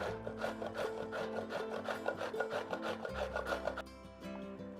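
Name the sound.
grating zucchini on a hand grater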